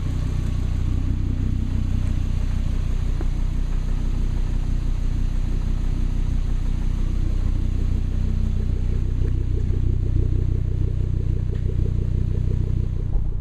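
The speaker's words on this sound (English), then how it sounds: "We're out breaking in the turbo now and braking." A Volvo driven on the road while breaking in a newly installed IPD 4T4 turbo, with a steady low engine drone and rumble from inside the car throughout, a little interior clatter and no talking.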